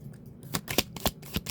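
Oracle cards being shuffled by hand, a quick run of soft papery riffles and slaps in a short, close burst with no talking.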